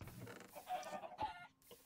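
Chickens cluck in the Minecraft Skygrid game, a few short, moderately faint calls in a quiet stretch of gameplay with no talk.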